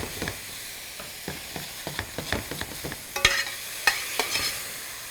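White wine splashes into a hot pan of chicken and Italian sausage, followed by a series of sharp scraping stirs and clinks over a soft sizzle, close and without talk.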